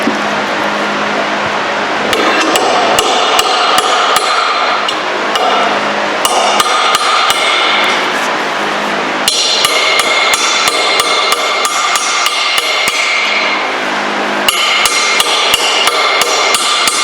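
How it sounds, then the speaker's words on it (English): A hammer drives a flathead screwdriver into a part during prep for a Dodge 4.7 engine rebuild, giving loud, close, evenly repeated metallic blows in a steady rhythm that keeps up throughout. "Flathead in here to grip from corner to corner. And pound it in there."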